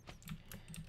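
A mechanical computer keyboard clacks through a few quick, irregular keystrokes, close but quiet, with no talking.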